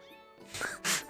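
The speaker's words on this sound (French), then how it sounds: "Ça, c'est un chat, ça?" A cartoonish cat meows in Zelda: Skyward Sword HD, a short rising call answered by a brighter, louder second cry, with faint game ambience underneath.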